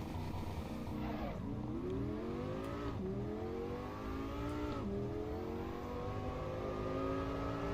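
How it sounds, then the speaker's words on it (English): Five-cylinder car engine in the Assetto Corsa EVO racing game, revving repeatedly with rising pitch sweeps through the gears, loud and continuous with no talk. "Let's just listen to the 5-cylinder now."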